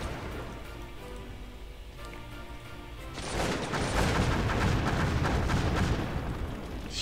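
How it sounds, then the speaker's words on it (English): Artillery fire in a Cossacks 2 battle, a Napoleonic-era strategy game, with a dense, loud barrage of crackling gunfire and booms that starts about halfway through after a quieter stretch of steady background tones. "We are under enemy artillery fire."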